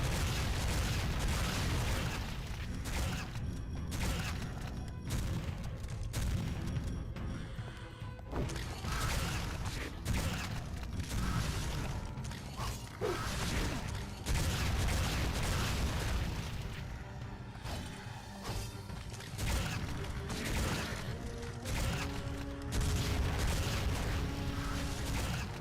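Repeated heavy shotgun blasts in the PS2 action game Van Helsing, loud and dense booming bursts with mechanical clatter continuing throughout, no speech.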